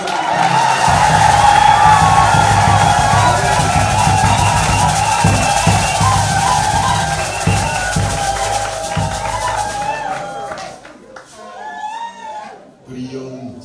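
A church congregation claps and cheers loudly for about ten seconds, the applause then fading away as a lone voice carries on.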